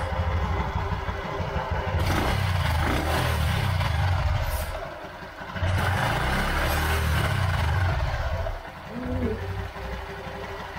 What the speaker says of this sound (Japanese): まあ、とりあえずエンジンがかかりましたので、これはこれで良しとしますね。